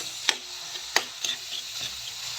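A utensil scrapes and stirs tomatoes and mussels in a hot frying pan for ginisang tahong. A few distinct, sharp scraping strokes sit over a steady, close sizzle.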